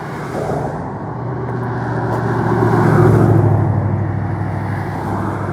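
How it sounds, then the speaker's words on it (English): Road traffic with cars passing by a walker waiting at a roadside, a loud steady engine and tire rumble swelling as a vehicle draws close and then easing as it moves on. "we gotta wait for the traffic to pass"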